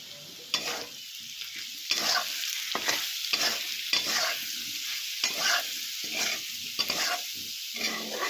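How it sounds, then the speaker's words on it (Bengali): Potatoes frying in soybean oil until reddish, a steady hiss with repeated scraping stirs at a regular pace, close and moderately loud, no voices. "আলুটাকে লাল লাল করে ভাজা হবে"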